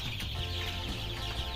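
A crowded flock of about 200 chopper chickens in a coop clucks softly and continuously, a low murmur of poultry sounds with no talking.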